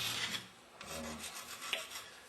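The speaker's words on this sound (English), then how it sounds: "We're using our screwdriver to take off the heavy corrosion" A screwdriver scrapes heavy corrosion off a Meyer E-60 snow plow pump, giving a quiet, steady rasping with uneven strokes and a small scratch near the end.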